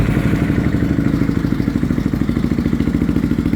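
A Yamaha Raptor 350 ATV engine, started without choke, runs with a loud, close, rapid thumping idle that pulses evenly throughout.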